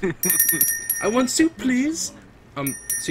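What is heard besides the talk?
dinner bell being rung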